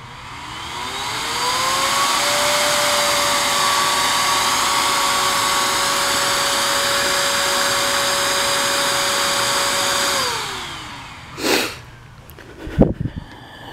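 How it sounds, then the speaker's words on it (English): A CPU cooler fan spins up with a rising whine, holds a steady loud drone for several seconds, then winds down and briefly pauses before surging back up in short bursts. "watch what happens to this fan whenever I start it up, or listen to what happens to it"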